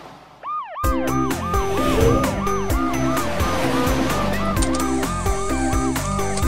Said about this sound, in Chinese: 超雷达警车雷克， 飞天救护车安琪， 装甲消防车高迪